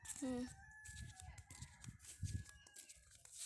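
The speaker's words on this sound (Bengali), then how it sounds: "বাবা কি মুরগি ডাকছে রে, মুরগি ডাকছে।" A rooster crows outdoors in a village beside a pond, a drawn-out call heard at moderate distance while people talk nearby over light background noise.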